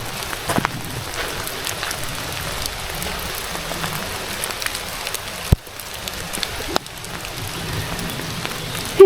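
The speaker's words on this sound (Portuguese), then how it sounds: "Essa chuvinha tá maravilhosa. Eu tô amando caminhar na chuva." Light rain falls steadily while someone walks outdoors on a pilgrimage trail, a soft continuous patter with occasional close taps and bumps.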